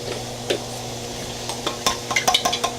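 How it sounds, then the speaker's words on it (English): Translucent brown colour being mixed, heard as close scraping and stirring, quiet at first, then a quickening run of sharp clinks and taps near the end, with a low steady hum underneath. "Let me just mix."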